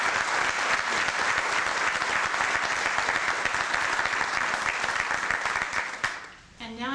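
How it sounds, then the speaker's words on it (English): Audience applause at a federal judiciary anniversary ceremony, sustained dense clapping from a large crowd that holds steady for about six seconds before fading out, after which a voice begins speaking. "please join me in a round of applause for these"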